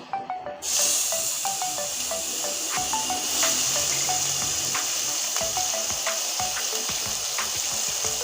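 Chopped onion hits hot oil and sizzles loudly, a steady dense frying hiss with scattered pops and faint stirring clicks, close and continuous after a brief quiet start.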